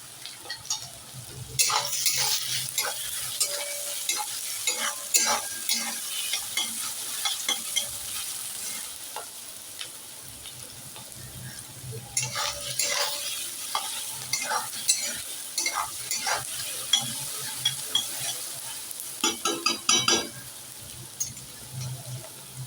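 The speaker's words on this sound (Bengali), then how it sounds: "লাল লাল করে একটু ভাজি, একটু হালকা করে ভাজিয়ে নিই ভালো করে" Onions frying in a pan for masala Maggi, with a steady sizzle beneath repeated scraping and clattering stirs; bursts of louder metallic stirring come and go across the stretch.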